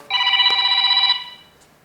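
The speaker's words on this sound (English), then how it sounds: "I shouldn't have brought my phone in" A mobile phone ringtone rings loudly in a quiet room, a steady electronic melody lasting about a second before it cuts off and fades.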